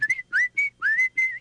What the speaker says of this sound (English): He was singing and whistling